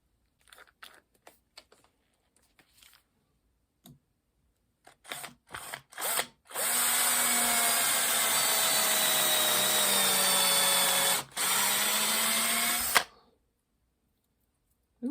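A power drill bores through half-inch material clamped in a vise: a few scattered clicks and handling knocks, then a loud continuous grinding whine for about six seconds, a brief pause, and a short final burst before stopping.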